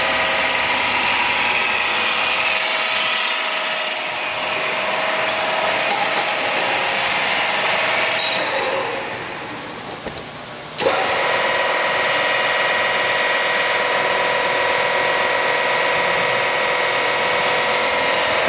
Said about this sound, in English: you'll note that he's coming up and down on the column. We're going to call that our power elevation